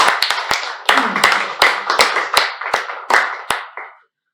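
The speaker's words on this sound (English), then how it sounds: "Let's give a huge round of applause to all of us." Clapping at a joint Toastmasters club meeting comes as a run of crisp, separate hand claps in a steady rhythm that stops after about four seconds.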